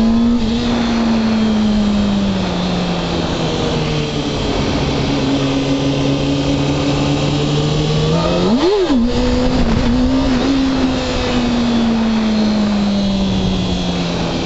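A motorcycle engine in first gear drones loudly and steadily, its pitch slowly sliding down, then surges in one sharp rev as the clutch is popped for a wheelie before settling back to a steady hum.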